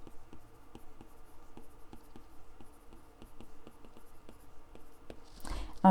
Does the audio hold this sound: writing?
yes